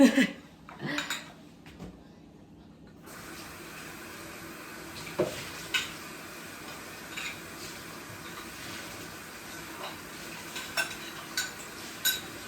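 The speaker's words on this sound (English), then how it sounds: "So I'm just washing my bowl out" Water runs and splashes while a bowl is rinsed out by hand in a home kitchen, with scattered clinks and knocks of dishware and utensils against the sink, fairly close and moderate in level, no talking.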